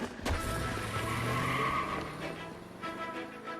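Car engine revving and tires screeching through a skid in the video game L.A. Noire, loud and continuous throughout, with a sharp onset at the start and no talking.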